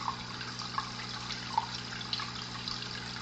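Water current flowing through a fish tank, a steady trickling, bubbling stream with a low pump hum underneath and a few brighter splashy drips standing out.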